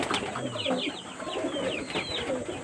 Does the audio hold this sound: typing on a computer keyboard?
no